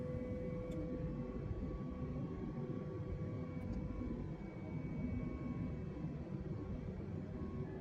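Airbus A320 airliner in flight in Microsoft Flight Simulator, a steady loud cockpit engine and airflow drone with faint steady tones running throughout, no voices.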